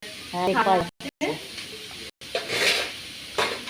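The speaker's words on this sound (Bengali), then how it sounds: "তো দেখো এখন মাছ ভাজছি" Fish frying in oil in a pan, a soft sizzle and hiss mixed with light clinks of a utensil, heard under a voice talking over the cooking with short pauses.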